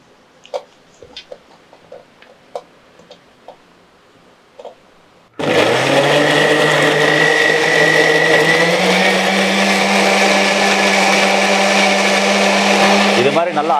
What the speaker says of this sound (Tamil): அரைச்சிக்கணும் நல்லா கூலாக அரைச்சிட்டோம்னா சூப்பரான ஜூஸ் ரெடி ஆகிடும்